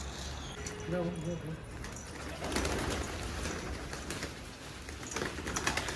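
Soft pigeon coos repeat briefly near the start over a muffled outdoor background, with faint rustling and clatter later.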